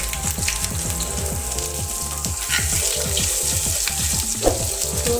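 Finely chopped garlic and ginger added to hot oil with tempered cumin seeds, a dense, continuous sizzle and crackle heard close up with no talking.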